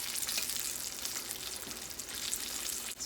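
Tacos frying in a pan for a Cinco de Mayo meal give off a steady, dense sizzle that holds evenly throughout, close and moderately loud, with no talking.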